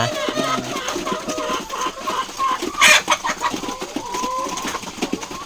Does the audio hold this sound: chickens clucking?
yes